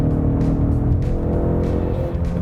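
A high-performance EcoBoost car engine accelerating at highway speed as the turbo boost builds, a loud, steady, dense engine drone with road noise running continuously and close throughout.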